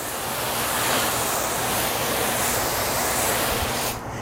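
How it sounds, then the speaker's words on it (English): A garden hose spraying water over a car's front end, a steady dense hiss of spray held at a constant level, close and loud, cutting off just before the end. "So I'm just going to take my hose, re-wet the front end"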